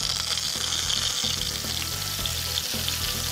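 Milk-soaked, squeezed croutons fry in hot olive oil in a pan, with a loud, dense, continuous sizzle and crackle that runs throughout, plus occasional stirring sounds and no voices.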